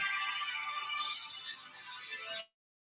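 A phone ringtone chimes steadily and fairly loud for about two and a half seconds during a math revision lesson, then cuts off into silence.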